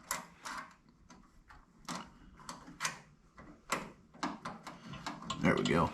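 A wrench tightens a -6AN hardline fitting on a 2WD K5, giving close, sparse metallic clicks and ticks with a short scraping burst at the end and no voices.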